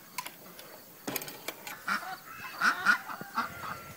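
Several ducks quack and honk in bursts over a few seconds, moderately close, with some scattered scuffling noise between calls.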